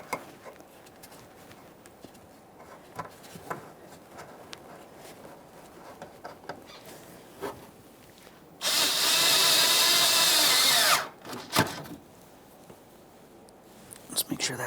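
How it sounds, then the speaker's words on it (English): Work on the 8mm-headed radiator hose clamp of a 1994-2001 Dodge Ram 1500 with a 5.2L V8 brings scattered close taps and clicks. A loud, sustained power-tool whir of about two seconds sits in the middle, with talk around it. "snug up that 8mm headed clamp"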